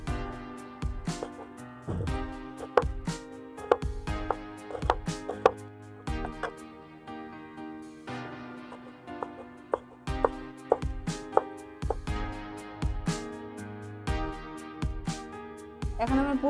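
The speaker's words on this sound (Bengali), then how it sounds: "এখন আমি পেঁয়াজটাও কেটে নেব।" Onion being chopped with a knife on a board in a home kitchen: sharp, fairly regular knife strikes repeat throughout, close and distinct, over steady background music.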